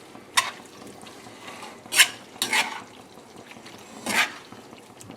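Broccoli being stirred into a chicken Alfredo sauce in a pan, giving a few soft wet scrapes and squelches spaced a second or two apart, close and fairly quiet over a low background hiss.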